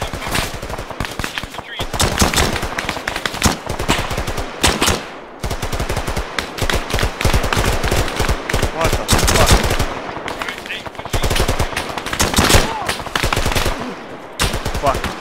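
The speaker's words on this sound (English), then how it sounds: "Taking fire." Heavy gunfire in a military combat video game, loud rapid bursts of automatic fire and single shots that keep going with short gaps, with radio-style voices talking underneath.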